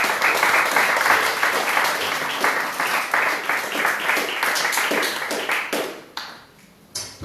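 A church congregation claps together during a worship service, the close, energetic applause running strong before thinning out and fading near the end, with a last scattered burst.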